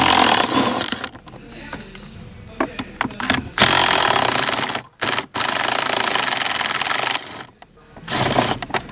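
A cordless electric drill whirs loudly in several bursts, removing 10mm screws from a Dodge Charger or Magnum shifter, stopping and restarting between screws, close up with brief pauses of quieter clatter.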